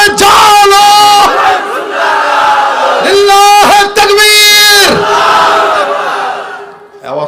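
A large crowd at a Bangladeshi religious gathering roars Allahu Akbar in loud, harmonic bursts, several sustained shouts answering a takbir call in waves across the stretch.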